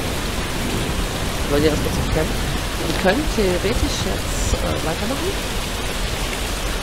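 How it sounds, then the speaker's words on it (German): Loud rain in the Dead Age zombie survival game, a dense, steady hiss of heavy rainfall that runs throughout while someone speaks German over it. "alter Schwede, ist der Regen laut"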